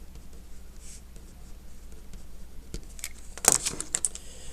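A pencil scratches on paper while geometry about congruent chords is worked out. Faint scratching and small taps come close, growing busier and louder near the end, with no talking.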